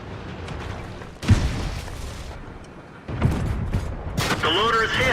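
Two heavy booming cannon shots from a tank in World of Tanks, the video game, land a couple of seconds apart, each a loud burst with a rumbling tail, and a voice talks over the later part.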